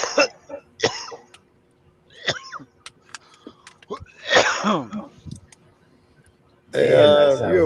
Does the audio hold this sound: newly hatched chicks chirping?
no